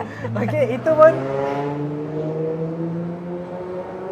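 A loud car drives past during a live talk show, its engine droning steadily and fairly close, with people talking over it.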